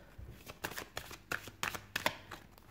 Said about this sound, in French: Je vais juste tirer une carte pour compléter.